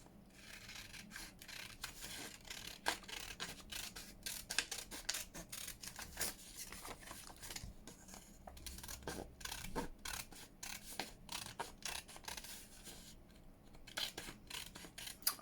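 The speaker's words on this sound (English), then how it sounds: "So I did think that I'm going to cut these out." Scissors snip through paper packaging pieces being cut out for a junk journal, giving repeated close, dry cutting and rubbing sounds at an uneven rhythm with no speech.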